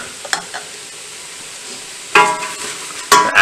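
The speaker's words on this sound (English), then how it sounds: "The plant-based soup is now at a nice simmer." Plant-based caldo verde soup in a pot, a soft bubbling simmer at first, then louder spoon stirring and sloshing in two close bursts.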